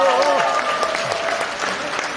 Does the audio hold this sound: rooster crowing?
no